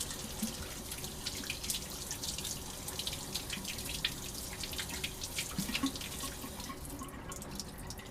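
A micro spatula coated with sodium hydroxide is rinsed under a running laboratory tap, water splashing steadily into a sink for several seconds with faint drips, close and continuous, no talking.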